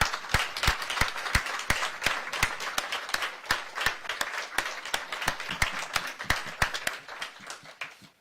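An audience applauds at an Airbus and Delta Air Lines corporate celebration of the 100th U.S.-built Delta A321. The clapping is moderately loud, with distinct individual claps over a steady patter. It fades out toward the end.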